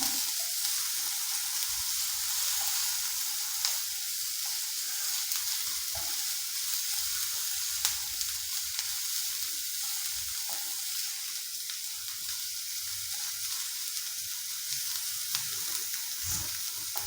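Onions softening in hot oil in a pan for a Kerala-style okra stir-fry, a steady close sizzle running throughout with occasional stirring scrapes and no voices.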